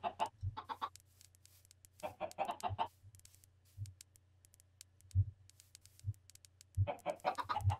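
Chickens in the video game Minecraft cluck in repeated short bursts, close and clear, with several birds overlapping and quiet gaps between calls.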